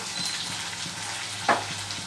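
Tomatoes cooking in a pan give off a soft, steady sizzle and faint bubbling, with a brief louder spatter or utensil touch partway through and no voices.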